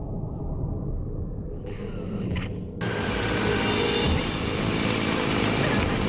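A chainsaw roars to life in the 2013 horror film Evil Dead, a loud buzzing engine that cuts in abruptly over a low rumble and keeps running hard.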